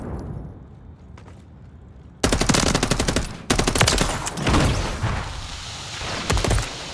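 Sustained automatic gunfire from a Call of Duty battle, loud rapid bursts starting suddenly after a quiet ambient stretch, then pausing briefly and resuming with dense repeated shots and a few heavier cracks near the end.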